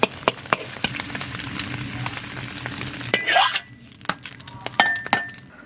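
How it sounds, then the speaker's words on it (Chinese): Eggs fry in oil in a wok with a sizzling hiss, broken by sharp scraping and stirring clicks from a utensil, loud at the start and quieter later. "锅里倒油，再炒点鸡蛋。"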